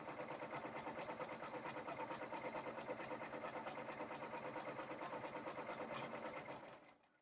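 An embroidery machine stitching out a design for a pumpkin mug rug hums with a rapid, even needle rhythm, close and steady, then winds down and stops at the end.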